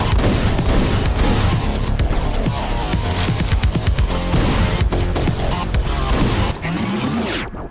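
Dense, continuous blasts of shotgun gunfire in the Hotline Miami 2 video game, loud and rapid with booming low-end impacts throughout, dropping away in the final second.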